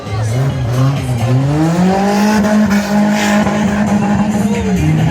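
Race cars in a wreck race, engines droning and rising in pitch as they accelerate, with tires squealing and skidding, loud and close, over a continuous roar.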